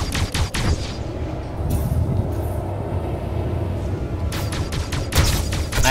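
Ship weapons firing in a Star Citizen space battle against a Sabre fighter during a pirate swarm fight, with dense rapid bursts of gunfire in clusters at the start, the middle and the end over a constant loud rumble.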